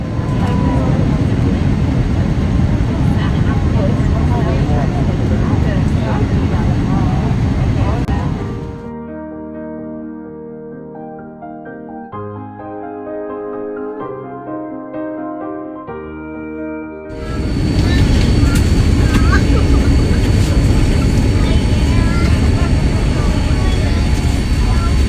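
Cabin noise on a passenger flight to Maui, a loud, dense broadband roar of engines and airflow, steady for several seconds, then dropping away to quieter tonal sounds before the roar returns at full strength.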